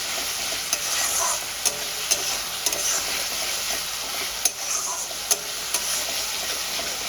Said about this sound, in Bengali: এই মশলাটা খুব ভালো করে কষিয়ে নেব।